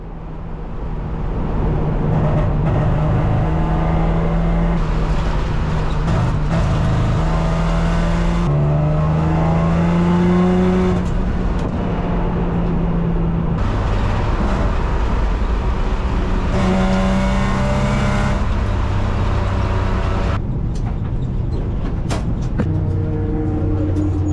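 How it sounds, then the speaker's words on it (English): Race cars at the 2024 24 Hours of Lemons endurance race roar loudly and continuously, with engine pitch rising and falling through gear changes for the whole stretch and no speech. "It's a 24 Hours of Lemons Button Turrible 2024. Team Perplexus leads the race."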